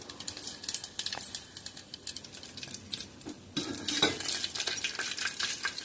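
Garlic cloves frying with coriander seeds and cumin in a pan for marugu charu, sizzling steadily under repeated scrapes and clinks of a stirring spoon, louder in the second half, with no talking.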